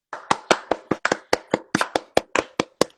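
Hand clapping in applause, about fourteen sharp, close claps in a fairly steady rhythm, loud and alone with no talk over them.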